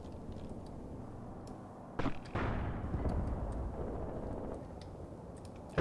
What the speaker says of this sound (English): now with these Panzer IIIs engaging their mortars directly